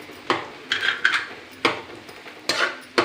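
Green chillies frying in a pan for street-style egg fried rice, stirred with a utensil that gives a few sharp metallic scrapes and clanks over a soft sizzle, no voices.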